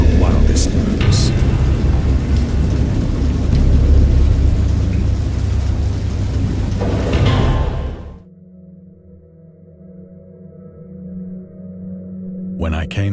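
Thunderstorm in the Dagon video game based on H. P. Lovecraft: loud, continuous rain and rolling thunder roar for about eight seconds, then cut to a quiet low hum with a faint rise at the end.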